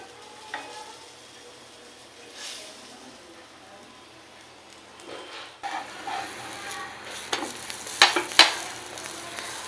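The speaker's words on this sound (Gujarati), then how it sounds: "બંને બાજુ આવી રીતે બરોબર શેકી નાખવાનું" Bread toast pakoda shallow frying in an oiled pan, giving a soft steady sizzle with stirring and scraping sounds that grow busier and louder toward the end, with a few sharp clinks.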